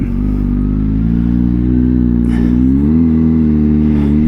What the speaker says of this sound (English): Now this is clutchless shifting. Oh yeah, you hear that exhaust popping?